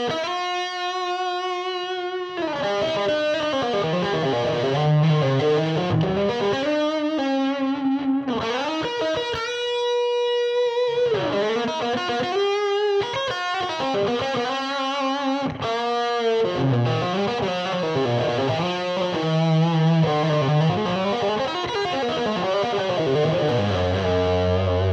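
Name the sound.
electric guitar through Roland JC-40 amplifier drive section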